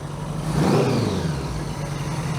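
A 1982 Honda GL1100 Goldwing engine with a single carburetor conversion revs briefly under throttle, a close mid-pitched rise and fall over a steady running drone, with no talking.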